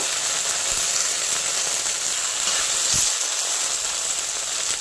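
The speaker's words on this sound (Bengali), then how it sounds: "হালকা করে এই ভেন্ডিটা ভেজে তুলে নেব" Okra (bhindi) fries in hot mustard oil with a steady, even hiss that stays level and close for the whole stretch, with one brief soft knock partway through.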